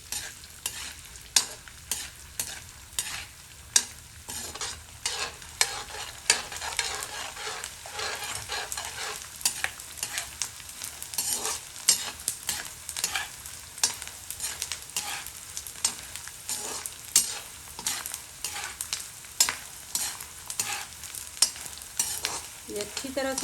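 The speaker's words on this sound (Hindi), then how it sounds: "घी में हम डालेंगे ये गूंदे। घी को अच्छी तरह से गर्म कर लिया। अब इनको हम फ्राई कर लेते हैं।" Edible gum pieces fry in hot ghee for panjiri with a dense, continuous sizzle and crackle, punctuated by frequent scraping stirs of the pan throughout, close and fairly loud.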